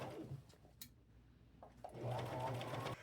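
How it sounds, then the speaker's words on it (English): A sewing machine stitches edging onto a thrifted garment, a soft start of scattered clicks and handling noise before a close, steady whirring run of stitches in the last second or so. "I'm fixing to sew all the way around them edges"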